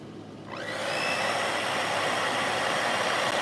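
A blower or hair-dryer-style tool switches on and roars steadily, a broad continuous whoosh with a rising whine, used to dry watercolor paint on paper.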